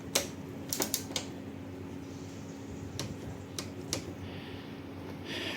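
Torque wrench clicking while tightening the front fork nuts on a Honda X-ADV 750 during a fork spring upgrade, heard as a few sharp, close ticks in short clusters over a quiet background.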